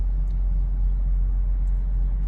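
Light traffic on a minor road near a truck travel center off I-75 in Vienna, Georgia makes a steady, low, distant rumble with no talking.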